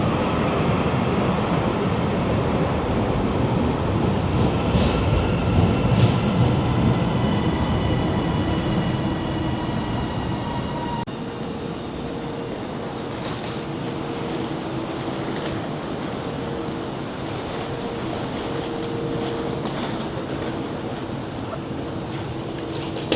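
Train rolling along the railway near Preston, heard from inside with a loud rumbling roar and wheel squeal that drops to a quieter steady hum with faint tonal whines partway through.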